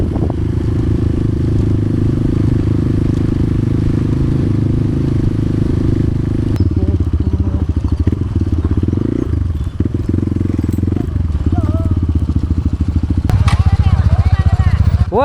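Motorcycle ridden along a dirt trail at Gangadhareswara Betta, its engine a steady close rumble throughout with rattling and clatter as the bike bounces over rough ground, brief surges toward the end.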